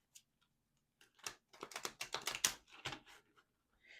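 Tarot cards are shuffled quietly at close range: a few soft flicks, then a quick run of crisp riffling bursts.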